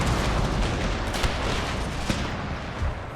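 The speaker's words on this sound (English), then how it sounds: "I want them to ride up and fire at the enemy in the back." Dense, continuous musket fire from cavalry in the video game Total War, set in the Thirty Years' War. A steady roar of overlapping shots with a few sharper cracks standing out.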